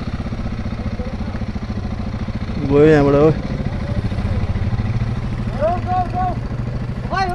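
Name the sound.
motorcycles riding off in a group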